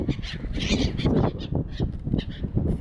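Seagulls squabbling over food at feeding time, a dense, fairly loud tangle of overlapping harsh calls and squawks that runs continuously without a break.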